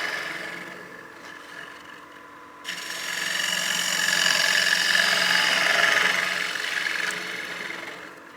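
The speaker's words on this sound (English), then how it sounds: "we're just going to use our bowl gouge to hollow this out" Bowl gouge cutting into a spinning wooden platter on a lathe, a steady humming tone that rises into a sustained scraping whir after a brief lull, with no talking.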